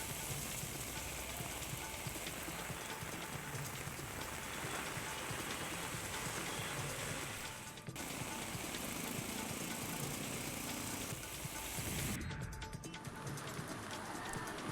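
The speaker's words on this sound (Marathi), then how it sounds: "भिवंडीत काल संध्याकाळी मुसळधार पावसाने हजेरी लावली" Heavy evening rain pours down in Bhiwandi, a thick, unbroken hiss of drops on surfaces close by, with a few faint pigeon coos and brief breaks in the roar.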